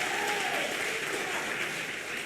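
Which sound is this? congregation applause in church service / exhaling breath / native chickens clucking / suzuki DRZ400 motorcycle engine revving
congregation applause in church service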